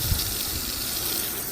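Water sheets and cascades off the raked glass of a car's rear window treated with Griot's Garage glass sealant, a steady, close rushing splash with no talking.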